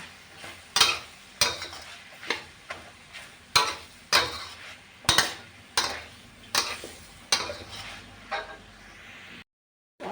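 A spatula stirs carrots into eggs that are starting to set in a pan for Thai fried rice with sliced pork. It makes a steady run of close, rhythmic scrapes and clinks with a soft sizzle underneath, then cuts to silence at the end.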